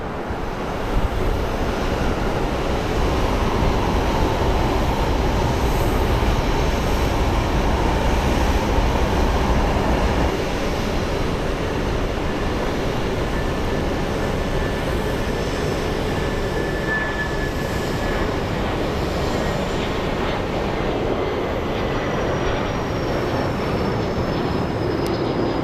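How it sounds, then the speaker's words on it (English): A Learjet 45 takes off at Phoenix Sky Harbor Airport with a loud, broad engine roar, first steady, then easing as it climbs away, leaving a faint distant whine. "We have a Learjet 45 about to take off"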